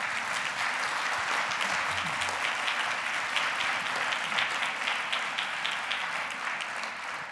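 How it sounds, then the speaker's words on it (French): A large audience at a regional conference on social inclusion applauds warmly for the partner associations, dense and sustained clapping filling the room with no voices above it. "je vous propose de les remercier en les applaudissant très fort"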